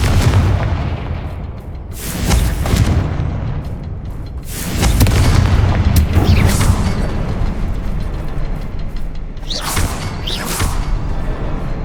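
Confringo blasting spells explode in the Hogwarts Legacy video game, several loud booming blasts with crackling bursts arriving in waves over a steady rumbling backdrop.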